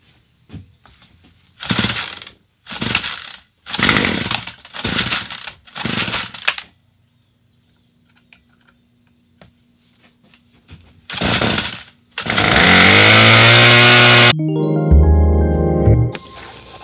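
A gas-powered string trimmer with a primed carburetor is pull-started: five loud, evenly spaced cord yanks, a pause, another pull, then the small two-stroke engine catches and runs with a loud, steady buzz that rises and settles.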